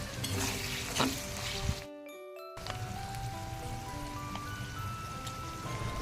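Chicken pieces fry in a pan with soy sauce and tomato sauce, giving a steady loud sizzle that drops out briefly near the middle and then resumes, with no talking.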